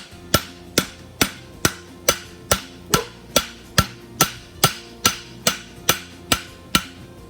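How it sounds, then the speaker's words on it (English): A hammer forges the heel caulk on a double dobber horseshoe, giving about fourteen loud, ringing metal blows in a steady, even rhythm with no talking. "All right, so I'm hitting this corner and I'm twisting it."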